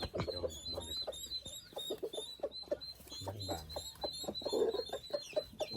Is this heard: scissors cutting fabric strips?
no